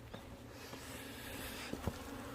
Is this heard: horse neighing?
no